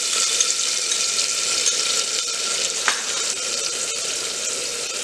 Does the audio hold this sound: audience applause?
no